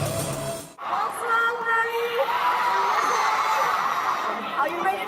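A concert crowd roars and cheers as the performers appear on stage, a sustained dense wall of shouting and screaming voices after a brief dip, steady and loud throughout.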